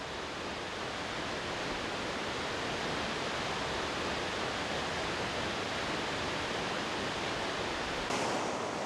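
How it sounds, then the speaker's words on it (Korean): Small waterfalls along a wooden boardwalk at Plitvice Lakes pour in a steady, dense, full-bodied rush of falling water, close and continuous with no voices. "힘찬 폭포 소리가 여행자의 지친 심신을 달래줍니다."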